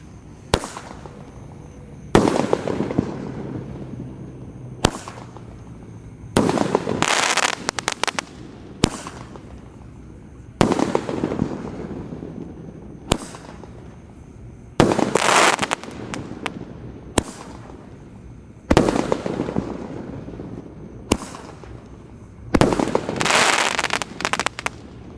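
A jumbo 1.5-inch eight-shot Roman candle fires at night during Ramadan, each shot a sharp loud thump followed by crackling bursts, spaced a few seconds apart and heard outdoors and fairly close.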